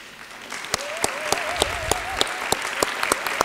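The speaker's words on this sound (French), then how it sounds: "d'habitude on applaudit les sujets, là on applaudit l'homme" Audience at a doctoral graduation ceremony at Université Bordeaux Montaigne applauding a graduate called on stage, sustained dense clapping with a few sharp louder claps standing out, while a faint voice speaks underneath.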